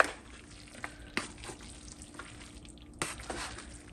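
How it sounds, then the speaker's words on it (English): A baked cabbage roll casserole, just out of a 350-degree oven, is stirred with a utensil: a few distinct scrapes and knocks against the dish over a faint wet bubbling, quiet and close with no talking. "We're gonna stir it."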